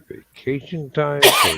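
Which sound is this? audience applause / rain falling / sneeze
sneeze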